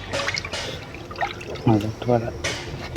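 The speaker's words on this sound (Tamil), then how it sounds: "இதை அப்படியே இதில் ஊற்றிக்கிறோம்" Water dissolved with turmeric, fennel, cumin, asafoetida and garlic is poured into a pot for sangalai rasam in a village kitchen, a short liquid splash and trickle heard under a speaking voice.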